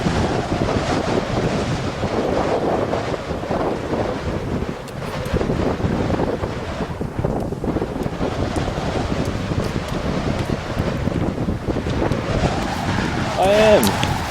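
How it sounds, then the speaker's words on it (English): Strong gusting wind at Torres del Paine roars continuously and loudly across the microphone, a dense steady buffeting with a brief voice near the end. "Now this is what I call wind."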